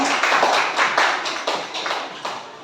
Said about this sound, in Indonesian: Tolong tepuk tangan untuk kita semua.